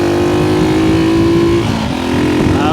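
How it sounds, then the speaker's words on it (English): A motorcycle engine roars loud and close as it revs hard toward the limiter, its pitch rising steadily, then it drops briefly at a shift and climbs again. "See if we can bounce it off the rev limiter again."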